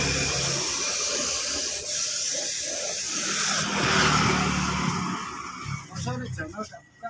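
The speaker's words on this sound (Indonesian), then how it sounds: "ini kita semproti sekali lagi seperti ini" A steady spray hiss runs for several seconds as a motorcycle body is spray painted candy red, fairly loud, with a voice talking over it and the spraying easing off near the end.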